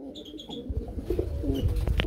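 A pair of blue shirting pigeons at a pigeon farm give soft cooing and a few short chirps, close and fairly quiet, over a low background rumble.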